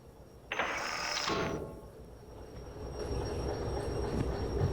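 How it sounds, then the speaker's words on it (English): A train braking to a full stop in the Derail Valley simulator game, a sharp metallic squeal of wheels that breaks off after about a second, followed by a lower rumbling rolling sound that fades. "let me fully stop the train"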